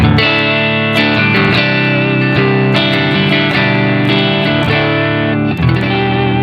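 Electric guitar on the neck pickup, overdriven through an Earthquaker Devices Special Cranker pedal: chords ring out loudly and continuously in a thick, gritty rhythm pattern, with no voices.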